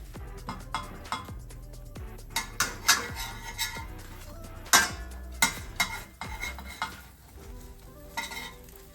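Metal spatula scraping and clinking in an oiled pan as a cheesy Frankie roll is flipped, with irregular sharp taps and scrapes over a soft sizzle, close and moderately loud.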